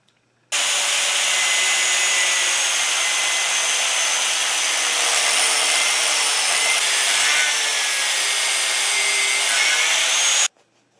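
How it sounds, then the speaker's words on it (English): An angle grinder cuts through a steel lawnmower blade being shaped into a knife with a steady, loud, high-pitched grinding screech. The screech holds unbroken for about ten seconds, with slight shifts in pitch as the disc bites, then stops abruptly. "It is easier with an angle grinder to make vertical cuts than long horizontal ones."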